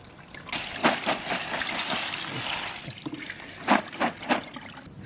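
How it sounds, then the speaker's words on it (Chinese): Spinach leaves being washed under running water in a home kitchen, with a steady trickle and splash and irregular louder bursts as the leaves are handled. "对，还有这几包菠菜了，也洗一下。"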